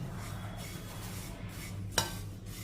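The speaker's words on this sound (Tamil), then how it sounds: "3 நிமிஷத்துக்கு இந்த ஓட்ஸை வறுத்துக்கிடுவோம்" Oats dry-roasting in a heated kadai, stirred with a spoon, giving a soft dry rustle and faint scraping, close and steady with a single sharper clink near the end.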